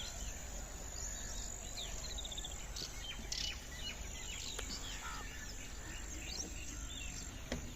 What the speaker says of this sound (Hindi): यहाँ पे परिंदों की चहचहाने की आवाज़ भी आ रही होगी।